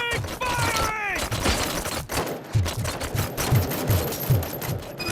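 Rapid automatic gunfire from a firefight in the video game RoboCop: Rogue City, loud bursts of repeated shots running continuously with game voices and effects mixed in.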